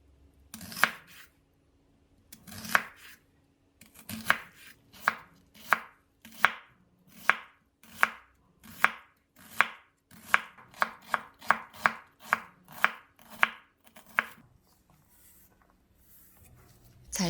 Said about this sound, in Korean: 양파를 잘게 썰어서 준비를 할게요.